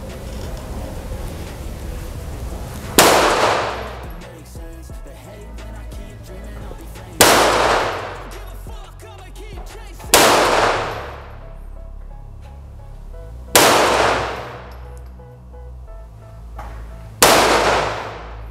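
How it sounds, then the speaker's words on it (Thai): Five sharp, loud rifle shots from a Ruger 10/22 fired at a cardboard target box, spaced a few seconds apart, each with a quick decaying ring, with quiet background between them. "จะทำการยิงกล่องนี้ต่อ"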